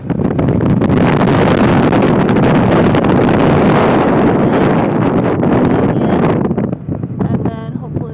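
Strong wind buffeting the microphone on a motorboat ride at Flaming Gorge, a loud continuous roar that eases near the end, with faint voices underneath.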